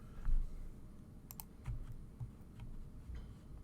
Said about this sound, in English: I'm nervous typing or something.